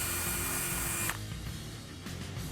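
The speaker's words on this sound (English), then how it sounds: "And with the rivet removed, drill it out to 5/16." A drill bores out a rivet hole to 5/16 inch in the wheel well of a 2014-2019 Ford Fiesta ST, a close, high whirring burst that cuts off after a second, followed by quieter handling noise.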